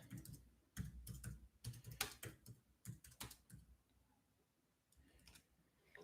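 Typing on a computer keyboard during a live stream, with quick bursts of close, crisp key clicks in uneven runs, trailing off into sparse taps near the end.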